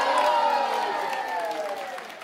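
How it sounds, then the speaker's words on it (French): Loud burst of audience applause and cheering at a cosplay contest awards announcement, dense clapping that slowly fades over a couple of seconds. "On peut les applaudir bien fort"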